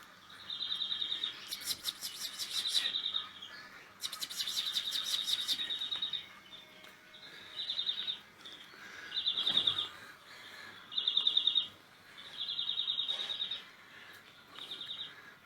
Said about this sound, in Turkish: Bir tane güzel bir kuşum var. Bu akşam öterse belki biraz size dinletirim